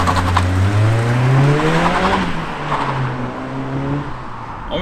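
A Mk1 Ford Sierra Cosworth slowing hard, its engine note sweeping up and then falling away as it decelerates, loud and close.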